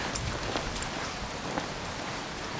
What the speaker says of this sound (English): Couldn't go for walkies because it was pouring and rain.